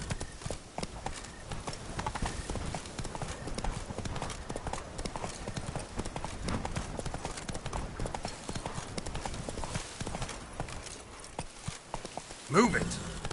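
Horse hooves clip-clop steadily at a gallop across the whole stretch in The Witcher 3, a rider urging it on, with a brief sharper burst near the end; close and continuous.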